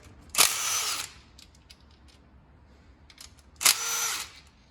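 Two short bursts of a power drill, close and loud, each lasting about half a second, with quiet clicks and handling between them while a cover bolt is removed on a Janus 250 motorcycle.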